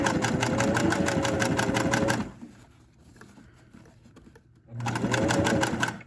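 Sewing machine running in two sustained bursts as it stitches heavy fabric seams on a cinch bag, with a quieter pause of handling noise in between; close and loud.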